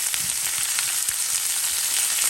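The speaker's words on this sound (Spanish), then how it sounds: "Volver a tapar y seguir sofriendo por un momento más." Chiles, tomatoes and tomatillos fry for a salsa in a covered pan, giving a dense, loud, continuous sizzle that is close and steady with no voices.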